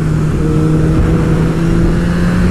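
A motorcycle engine roars loudly and steadily under hard acceleration, a strong droning tone rising slightly in pitch across the whole stretch, heard close up from the rider's position with wind noise.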